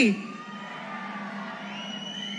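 A large outdoor crowd at a political gathering in Chilakaluripet cheers and applauds in a continuous, fairly distant roar after a sharp opening shout.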